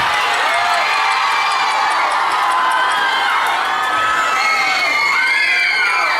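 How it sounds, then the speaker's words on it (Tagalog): A youth crowd shouts and cheers loudly and excitedly all together, overlapping high-pitched yells and whoops filling the space without a pause. "kailangan niyo pong isigaw ang inyong team ng malakas!"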